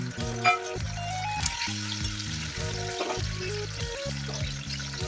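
Ground tomato paste hitting hot oil in a spice tempering for a green banana dish sets off a strong close sizzle, with stirring clatter and scraping throughout and no talking.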